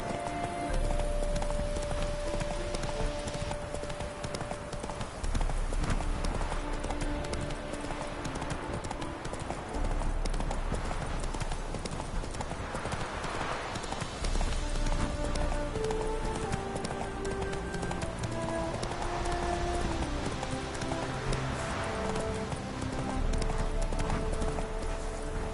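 Roach the horse gallops at a steady clip-clop pace in The Witcher 3, the hoofbeats continuous and close throughout over a constant in-game ambient bed, with an occasional faint snort.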